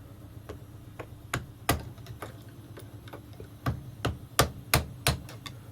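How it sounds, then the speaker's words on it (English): A series of sharp metallic taps from a hammer pushing a circlip down inside a Bosch GBH 5-40DE rotary hammer during servicing, irregular at first then quicker and louder toward the end, fairly close. "What I'm going to do is pushing with the hammer"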